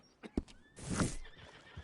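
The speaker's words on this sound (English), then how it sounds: "And bring that horse back anytime." A horse neighs loudly at close range, with a few hoof clops just before the whinny and faint clopping after it.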